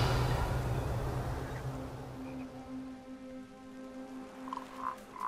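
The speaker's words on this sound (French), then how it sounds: "Pareil, des crapauds géants, ça c'est bon." Giant toads croak in a Hogwarts Legacy game scene, a steady low droning croak held under a dense wash of ambient forest or rain-like noise, with a few higher calls near the end.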